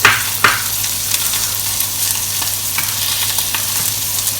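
Bell pepper frying in a pan for a poutine with gravy, a steady bright sizzle running throughout with a few stirring scrapes near the start.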